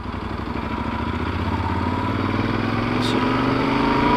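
Yamaha Super Ténéré motorcycle engine running steadily in touring mode while riding, a close, continuous mid-pitched drone with a faint rising tone as it pulls, under a brief spoken remark.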